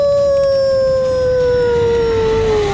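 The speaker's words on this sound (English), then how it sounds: "The alpha wolf used his howl to call for backup" A wolf in the Minecraft video game lets out one long, loud, sustained howl that slowly falls in pitch over about three seconds, with a low rumbling background underneath.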